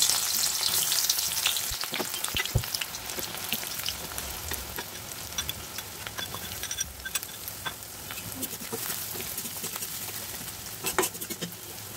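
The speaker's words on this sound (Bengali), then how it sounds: "পেঁয়াজটাকে আমরা তেলের মধ্যে ভালো করে ভেজে নেব যাতে বাদামি কালার আসে।" Onions and green chilies fry in oil in a wok with a steady close sizzle and crackle. Stirring clatters occasionally and nobody speaks.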